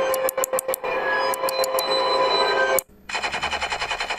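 An Arduino LED button game plays a rapid machine-gun-like electronic sound effect, loud and rattling in bursts, then a brief gap before a buzzy repeating pulse.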